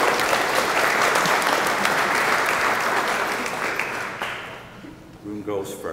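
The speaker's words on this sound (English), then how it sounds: "I think that's worthy of a little applause." Wedding guests at a Cliff House ceremony in Maine break into sustained applause, dense clapping filling the room for several seconds before tapering off as a voice begins talking.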